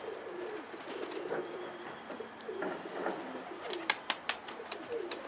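A pigeon coos softly and repeatedly in the background, with a few sharp clicks and taps near the end.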